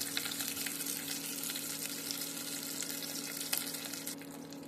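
Nigella seeds and curry leaves sizzle in hot mustard oil, a steady crackling hiss that runs evenly throughout at moderate volume with no talking.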